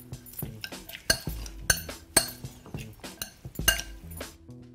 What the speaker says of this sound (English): And then mix it all up.